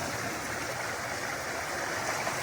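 Clear stream water flowing straight down from a waterfall near a village sunset point, a steady broadband rushing and gurgling that holds an even level throughout, with no voices.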